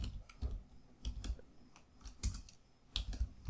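Typing on a computer keyboard while entering Java code in the Eclipse IDE: quiet, close key clicks come in small irregular bursts with short pauses between them, with no talking.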